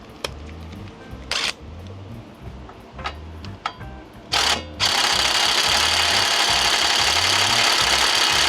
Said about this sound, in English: One more turn and then I'll use the impact wrench.